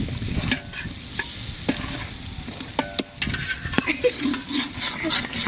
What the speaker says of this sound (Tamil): ஆமாம் எண்ணெய் தெரிக்க தான் செய்யும்